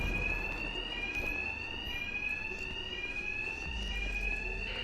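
A continuous electronic alarm in the video game Batman: Arkham Knight rings with a shrill, slightly wavering tone, sustained over a low background hum.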